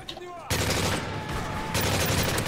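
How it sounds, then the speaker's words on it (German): MP5 submachine gun fire in Modern Warfare 3, a loud sustained automatic burst starting abruptly after a brief quiet lead-in and continuing dense and rapid to the end. "dann baller ich jetzt noch ein bisschen mit der MP5 rum nochmal"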